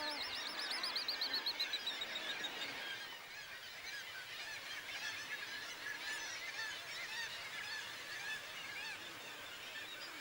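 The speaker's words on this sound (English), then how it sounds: "every inch of ledge is loaded with birds" Guillemots packed onto cliff ledges in a seabird colony make a dense, continuous chorus of overlapping harsh calls and croaks. The sound stays steady and seems moderately distant throughout.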